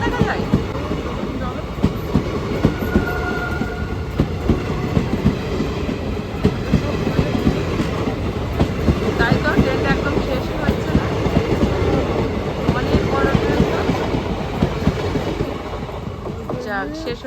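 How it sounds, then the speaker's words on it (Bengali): A train rumbles past at night, its railcars clattering in a steady, continuous clickety-clack that stays loud and close from start to finish, with faint voices mixed in. "অন্ধকারের মধ্যে একটু ট্রেনটা দেখিয়ে দিলাম"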